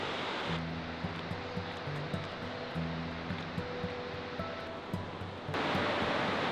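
A huge waterfall beside a cave lake in Pont-en-Royans, France, roars as a loud, steady wash of rushing water, unbroken throughout with no voices.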